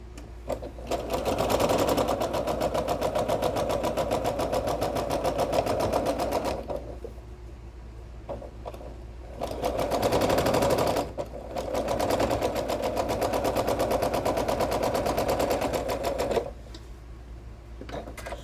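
A sewing machine stitches a pink and purple quilt in long steady whirring runs, stopping briefly twice before starting up again, close and fairly loud with no talk.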